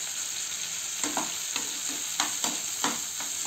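About ten cashews frying in a pan, a soft continuous sizzle broken by a series of close spatula scrapes and taps at an uneven rhythm, with no voices.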